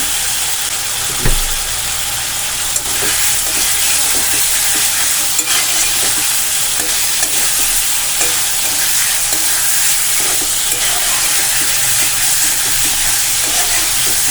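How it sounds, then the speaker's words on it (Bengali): Paneer cubes stirred and frying in a pan over medium flame, a steady broadband sizzle running throughout with faint scraping stir strokes and one brief louder clank early on. "পনিরগুলো 2 মিনিট আমি নাড়াচাড়া করে নেব মিডিয়াম ফ্লেমে রেখে।"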